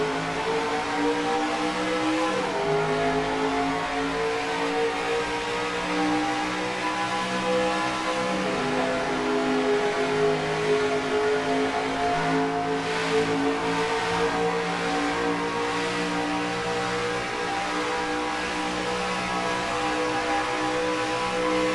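A pack of NASCAR Racing 2003 stock cars drones steadily under the green flag at SimTel Park, layered engine tones rising and shifting together in a dense, continuous roar with no talk.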